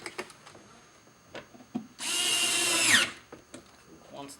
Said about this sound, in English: we'll put our two T30 screws back in up here.